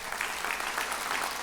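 An audience applauds a senator at a New Year's greetings ceremony, a brief, dense burst of steady clapping from a crowd in a hall.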